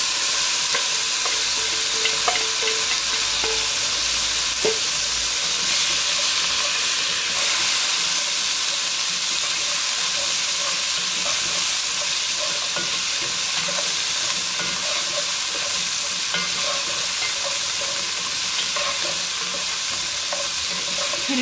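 Onion and carrots stirred into a pan with browned beef for a white-wine boeuf bourguignon, sizzling and frying steadily throughout, with a spoon scraping and stirring now and then, close and alone without talk.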